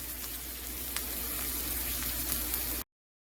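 A steak sizzles steadily in a frying pan just after being flipped, an even, moderately loud crackling hiss with faint pops, cutting off abruptly near the end.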